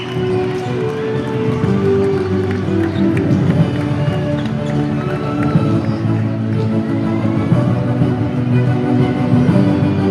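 Dense crowd noise fills a packed gym during a junior-division high-school basketball finals game, a steady roar of cheering and chatter throughout with faint court sounds underneath.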